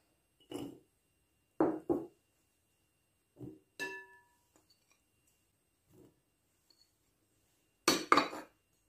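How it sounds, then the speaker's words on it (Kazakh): Chopped salad ingredients are tossed and mixed in a bowl, with a few separate bursts of scraping and clinking from a utensil against the dish, mostly quiet in between and with one louder burst near the end. "Енді ыдысымызды аламыз. Барлығын араластырамыз."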